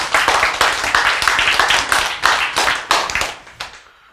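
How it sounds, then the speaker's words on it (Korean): An audience in a Korean health and nutrition lecture claps steadily, dense hand claps rolling on for about four seconds before tapering off, with no talking over them. "박수!"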